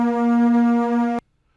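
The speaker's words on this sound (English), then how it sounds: "I have this sampled sound from my Super Nintendo that I have" A single sustained synthetic tone sampled from a Super Nintendo, with a bright buzzy timbre, holds steady for about a second, then cuts off abruptly into silence.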